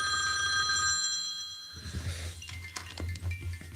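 A phone ringing with a steady electronic ringtone for the first couple of seconds, then giving way to clattering and handling noise, close by with no speech.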